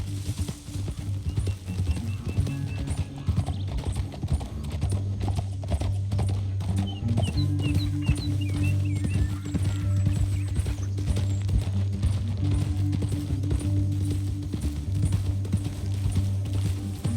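A horse gallops with continuous, steady clip-clop hoofbeats in the Red Dead Redemption 2 video game, set over a low rumbling backdrop with an occasional faint whinny.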